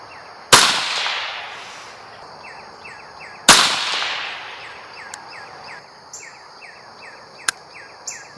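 Two sharp, loud .22WMR rifle shots from a Bear Creek BC-202 10/22-style magnum rifle, fired a few seconds apart outdoors, each cracking and then decaying into a long echo, with insects chirping and a few faint clicks afterward.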